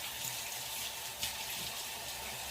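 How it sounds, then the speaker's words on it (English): A cup of water pours steadily into the bottom of a roasting pan holding a pork roast, a soft continuous splashing trickle with no talk. "I'm gonna pour like a cup of water on the bottom of this"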